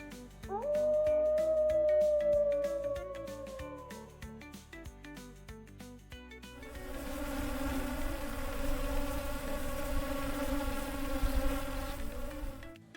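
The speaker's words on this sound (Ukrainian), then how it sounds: "А це бджоли. бзз." A wavering animal-like howl fades into a steady, droning buzz of bees that carries on over a rhythmic musical backing.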